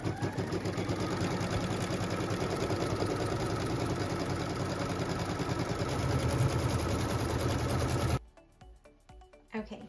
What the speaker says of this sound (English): And then we're going to stitch what's called the tack down line.